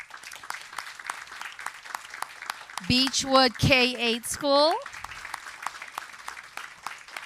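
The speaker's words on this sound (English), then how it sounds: "Join me in a round of applause for Acacia Elementary School" Scattered applause at a school board meeting honours a list of schools. A voice announces a school name over the middle of the clapping, which continues steadily before and after.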